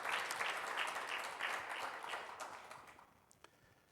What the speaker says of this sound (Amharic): አጨብጭቡላት፣ ባርኳት።